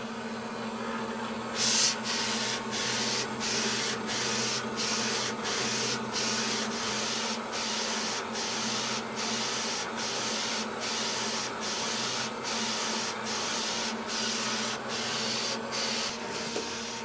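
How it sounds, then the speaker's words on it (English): A direct-to-garment printer prints colour over a white underbase on a dark T-shirt, its carriage sweeping back and forth in regular passes over a constant mechanical hum, close and steady, no voices. "the machine will automatically draw the shirt back in and start printing the color on top of the"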